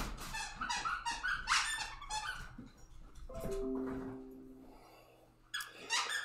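Dog playing with a squeaky fire hose dog toy, a few sharp squeaks and a drawn-out squeal over soft rustling and chewing sounds, close up, without talk.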